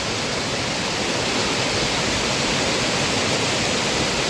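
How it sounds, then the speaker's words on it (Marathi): Strongly rushing water roars continuously and loudly, a close, unbroken torrent with no voices. "किती जोरदार पाणी जोरात पाणी वाहते बघा"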